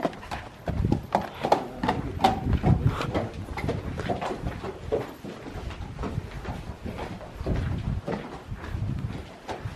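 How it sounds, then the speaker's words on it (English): Steady clip-clop of horse hooves on a hard surface in Italy, a brisk, regular rhythm close by, with a little background noise. "Beautiful horse."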